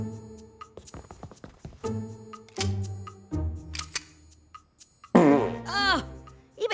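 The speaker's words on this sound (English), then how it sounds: "even his farts smelled like maple syrup" Cartoon fart sound effects in an adult animated comedy, a string of buzzy blats and sputters of varying length, ending in a long squeaky, warbling one, close and punchy with no talk over them.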